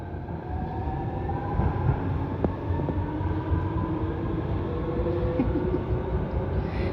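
A train rumbles steadily along the rails in Thailand, a continuous dense roar with faint squeals and clanks, heard from on board or close by.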